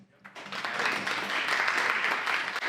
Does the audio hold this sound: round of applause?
yes